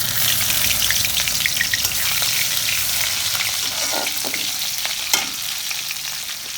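Crushed garlic tossed into a pan of frying boiled banana stem, giving a loud, dense, continuous sizzle with faint stirring scrapes throughout.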